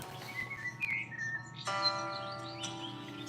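Birds chirp in a tree right outside, with bright tweets and short whistled calls, some near and some farther off, over a low steady background hum.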